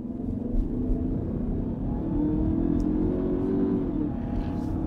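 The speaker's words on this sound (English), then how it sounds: "I'm gonna show you a little bit of the acceleration, especially here from a light" A 2022 Lincoln Corsair pulling away from a traffic light, its engine a low, steady, muffled rumble heard from inside the cabin, rising gently as it gains speed, with no talking.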